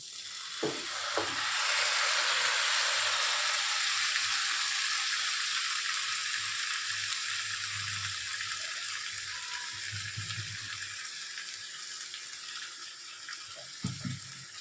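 Chicken meat cooking in a wok, a loud broad sizzle that swells in the first seconds as the meat goes in, then a steady frying hiss with occasional stirring scrapes and clunks of the pan.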